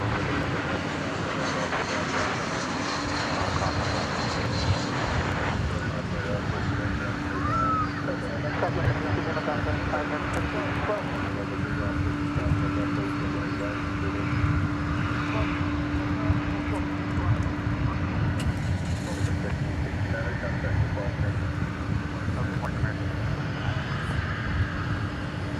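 An MD-11 airliner's engines at DFW Airport at night, a steady distant jet rumble with a sustained whine running under the whole stretch, while people talk nearby.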